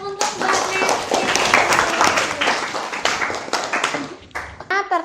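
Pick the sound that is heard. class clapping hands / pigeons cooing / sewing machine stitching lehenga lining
class clapping hands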